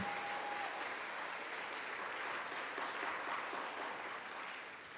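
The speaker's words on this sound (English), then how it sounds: "Can we get another round of applause to all donors, community members, supporters of Saving the Mural?" An audience at a city arts awards ceremony applauds donors and supporters of a mural-saving effort, a dense, even roar of clapping sustained throughout and tapering slightly at the end.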